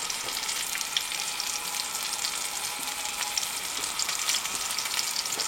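Buns sizzle on a hot camp stove inside a tent during a snowstorm, a steady bright crackling hiss that is close and moderately loud, with no voices.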